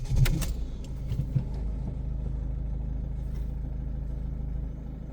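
A Ford Focus MK2 facelift with the 1.6 TDCi diesel engine turns over and starts, with keys jangling briefly at the outset. A loud low rumble then settles into a steady, close idle with no one talking.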